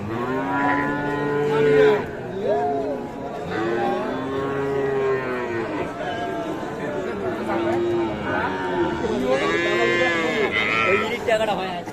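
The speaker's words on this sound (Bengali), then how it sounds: "এ পাশের এগুলো সবই ষাঁড় বাচ্চা" Young bull calves at a cattle market moo repeatedly, long drawn-out calls rising and falling close by, over a background of crowd chatter and people talking.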